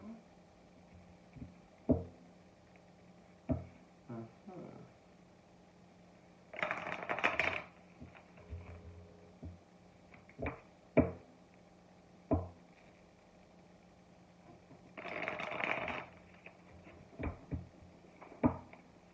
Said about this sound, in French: On va mélanger et on prendra la carte du dessus. Je vais mélanger plus de 3 fois.